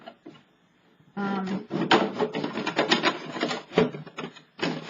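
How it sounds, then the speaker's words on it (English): A plastic milk jug is cut around its handle, giving a run of close, crinkly crunching cuts and snips after a brief quieter start, with short gaps between strokes. "I'm just going to continue cutting around the handle part"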